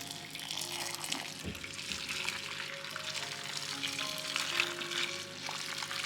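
Water bubbles and hisses steadily in a pot with peppers, a soft continuous simmer with occasional light knocks and clinks close by.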